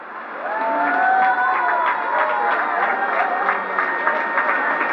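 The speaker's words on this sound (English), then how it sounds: "give a loud round of applause to our presenters" Applause from an audience at a high school graduation ceremony, a sustained wash of clapping and crowd noise that swells and holds steady, with voices mixed in underneath.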